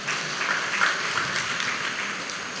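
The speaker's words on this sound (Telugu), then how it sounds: "ఒకసారి చప్పట్లు కొట్టి" A church congregation at a jubilee Mass claps together, a dense, steady wash of applause that holds at even loudness throughout, fairly distant and with no clear voices.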